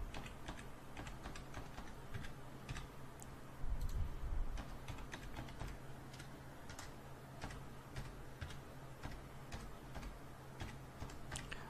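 Computer keyboard typing with rapid irregular clicks runs throughout at moderate level, entering a name and email address, with a steady low hum underneath and no voices.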